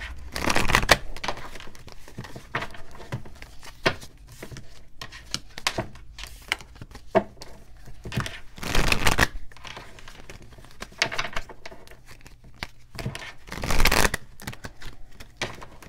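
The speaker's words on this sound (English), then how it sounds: "I'm gonna pull three cards for one, two, or three questions." Tarot cards being shuffled by hand in several bursts of riffling and sliding, separated by quieter pauses and light handling rustles, close up.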